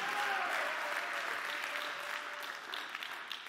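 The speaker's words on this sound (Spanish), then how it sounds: "Denle un aplauso al Señor por eso." Congregation at a church sermon gives applause to the Lord, a soft, continuous patter of many hands at moderate distance, steady and gradually easing over a few seconds.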